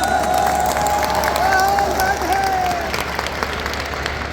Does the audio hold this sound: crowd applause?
yes